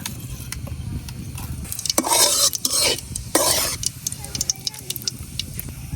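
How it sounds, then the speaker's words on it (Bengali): Nigella seeds sizzling in mustard oil in a wok, a close crackling sizzle that swells into loud bursts of hissing spatter, with stirring scrapes and a brief voice in between. "দিতেছি অল্প একটু কালো জিরা"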